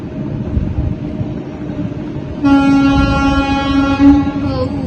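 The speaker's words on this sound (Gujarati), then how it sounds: "અહીંયા પાંચ પાંચ મિનિટે આવે છે ટ્રેન" A train arriving at a station rumbles steadily nearby, then a loud sustained horn blares for a couple of seconds over the rolling noise.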